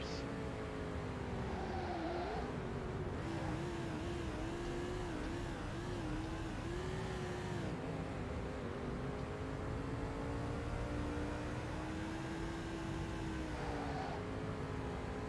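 NASCAR 2005: Chase For The Cup race cars roar around a fantasy track, a steady loud engine drone whose pitch rises and falls as the cars accelerate through corners, alongside other cars, with someone talking intermittently over it.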